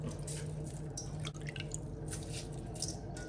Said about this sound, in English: go in with my washed rice